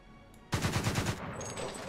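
Rapid burst of anti-aircraft cannon fire in War Thunder, about six fast, evenly spaced loud reports with shells striking the target, then fading into a sustained rumbling tail.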